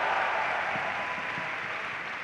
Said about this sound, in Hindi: जिनके लिए एक बार जोरदार तालियां बजा दीजिए